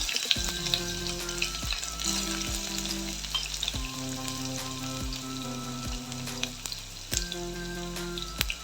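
Curry leaves and garlic fry in hot oil, giving a steady, close sizzle with crackling pops throughout, while faint tones run underneath.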